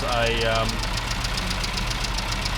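A car engine runs, its carburettor dashpot filled with light oil and fitted with a modified damper during fueling adjustment. A steady, close idle rumble has a rapid pulsing beat, and a brief voice-like tone sounds at the start.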